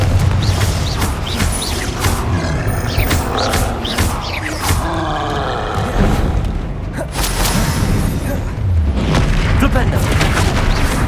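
Confringo explosion spell in Hogwarts Legacy, loud booming blasts and crashes among other spell effects, with a voice calling out between them.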